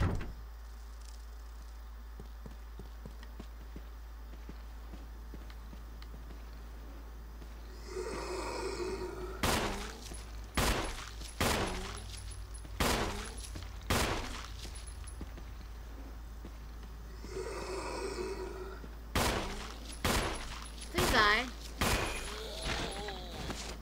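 Gunshots in Resident Evil HD Remaster: about ten sharp, loud cracks fire singly at a steady pace in two volleys, with a person talking in between.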